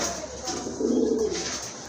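A male pigeon from a pair kept for sale coos in a short, low, rolling burst that swells in the middle, close by, with faint background noise and no talk.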